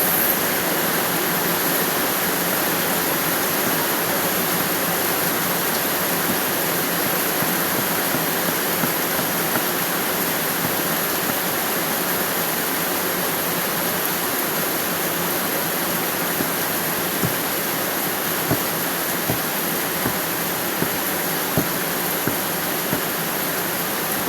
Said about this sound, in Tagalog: Lakas ng ulan na naman guys.